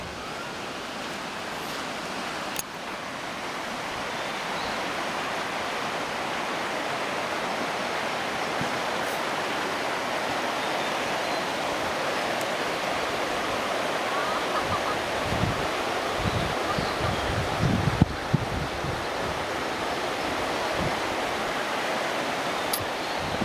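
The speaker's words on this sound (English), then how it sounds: "let's go check out this stream." A stream flows steadily at a campsite in Korea, a broad continuous rush of water that stays even and moderately loud throughout, with a few faint knocks and rustles near the end.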